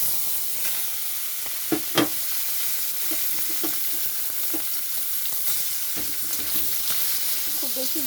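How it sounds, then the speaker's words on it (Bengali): Prawns frying in a little hot oil in a wok, a constant close sizzle punctuated by a few sharp utensil clinks and stirring scrapes, with no voices. "কড়াইতে তেলটা গরম হয়ে গেছে, তো আমি এখন চিংড়ি মাছটা দিয়ে দিচ্ছি ভাজার জন্য।"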